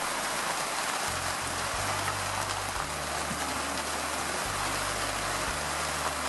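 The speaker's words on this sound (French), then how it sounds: "Il pleut, Christian?" Rain falls steadily on a boat or fishing trip off Norway, a dense wash of noise that fills the whole stretch, with a low engine-like hum and tones running underneath.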